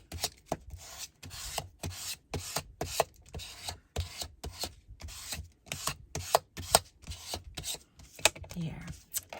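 A scraper rubs in quick, repeated rasping strokes over card stock while making a sun-ray starburst card, each stroke a short scratchy burst with brief pauses between.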